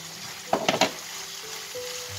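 Brief stirring of parsley into a chicken, cheese and paprika filling in a hot pan over high heat: a few quick scrapes and clinks over a faint sizzle, mostly alone.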